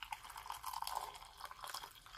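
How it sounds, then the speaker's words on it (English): Hot water is poured into a mug for a Polish military ration breakfast, a soft, faint, continuous trickling and splashing with small bubbling drips that wavers in level over about two seconds, with no talking. "So now let's fill the cup or the mug."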